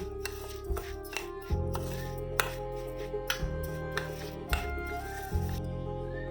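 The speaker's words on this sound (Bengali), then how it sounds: "এবার আমি একটা চামচ দিয়ে এটাকে মাখিয়ে নেব" A spoon works ginger-chili paste into rice for basanti pulao, making repeated soft thuds and squishy scrapes at an uneven rhythm over a steady low background hum.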